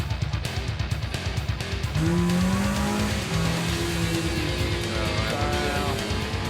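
A drag race car launches down the strip, its engine roaring steadily near by and then rising in pitch as it pulls away, with the revs climbing under a constant loud rumble and no talking.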